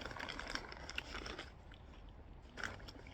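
Havoc smoky nacho corn chips crunch loudly and close-up as they are bitten and chewed. A dense burst of crackling comes first, then it eases off, with a fresh sharp bite near the end.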